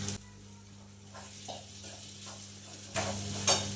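Sabudana (tapioca pearls) and chopped potatoes fry in an oil tempering for khichdi. A steady, soft sizzle carries through with light stirring scrapes and a louder clatter near the end.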